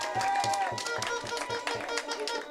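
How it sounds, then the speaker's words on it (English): Audience at a political community meeting clapping in applause, a thin irregular patter of hands from a modest crowd, steady for a couple of seconds with some voices mixed in. "Let's give her a big round of applause."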